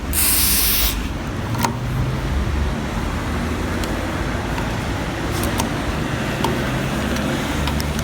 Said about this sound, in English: get some WD and spray it in the keyhole